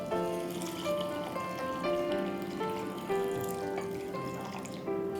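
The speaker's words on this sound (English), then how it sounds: "I'm going to add enough water to this." Water runs from a tap into a bowl of about a cup of moong beans for washing, a steady close splashing fill with shifting ringing tones as the level rises, no talking.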